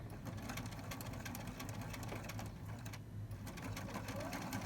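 A sewing machine stitches down the side of a backpack pocket, a fast, steady mechanical rattle running continuously at close range and fairly low level.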